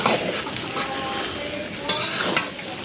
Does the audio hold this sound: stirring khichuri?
yes